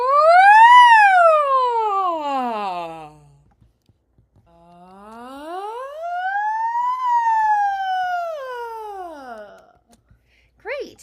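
A singer imitates a siren in a vocal exercise, sliding in two long smooth rising-and-falling sweeps, clear and close, with a brief vocal bit at the end.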